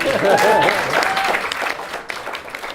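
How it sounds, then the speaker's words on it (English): Wedding guests applaud during the speeches at a reception, a dense burst of clapping close by that gradually thins out, with a voice talking over it. "round of applause, please."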